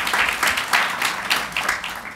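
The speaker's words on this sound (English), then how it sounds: "Let's give them a round of applause real quick." A room full of people applauds the mothers present at a ceremonial groundbreaking. The clapping is dense and continuous, swelling in soft waves, with no talk over it.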